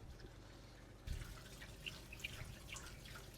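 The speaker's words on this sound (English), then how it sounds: "So we're just running the cold tap as we pour the noodles out." A cold kitchen tap runs while cooked noodles are poured out, a quiet steady splash and trickle that starts abruptly after a second and carries on with small drips.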